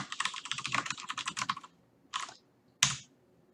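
Close, quick keystrokes as code is typed on a computer keyboard, a rapid burst of clicks followed by two separate heavier key presses, with no talking.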